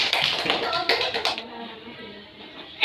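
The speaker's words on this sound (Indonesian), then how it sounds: "Tepuk tangan untuk kelompok 1." Clapping for a group of students in a classroom, a burst of many hands tapping for about a second and a half before fading into quieter room noise.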